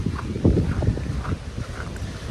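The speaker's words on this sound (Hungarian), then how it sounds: "Meg félő, hogy mindent elfúj a szél." Strong wind blows at a campsite beside a very old, small motorhome, a loud, continuous gusty rush with buffeting against the microphone and no clear breaks.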